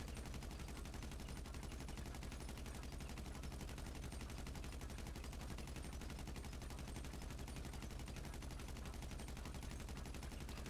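Continuous rapid automatic gunfire from GTA5, a dense unbroken stream of shots at steady rhythm filling the whole stretch, loud and close with no talk.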